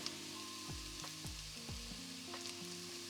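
Tomato puree sizzles in a pan for a vegetarian lasagne, a soft, steady frying hiss with a few brief stirring scrapes, quiet and close with no voices.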